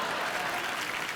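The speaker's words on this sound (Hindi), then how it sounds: "जोरदार तालियां" A studio audience at a comedy talk show breaks into a dense, loud burst of applause, steady throughout the short stretch.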